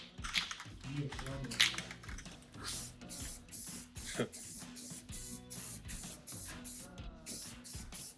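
Rust-Oleum rust-preventive paint is sprayed onto a hose reel in repeated short hissing bursts from the aerosol can, close and fairly quiet, with a voice talking and some handling clatter at the start.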